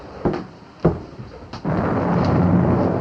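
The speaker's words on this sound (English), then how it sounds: "Oh, what a storm. It's coming down in buckets." Thunderstorm with heavy rain: a few sharp cracks of thunder land close together, then a steady, loud hiss of downpour builds and holds to the end, with no voices.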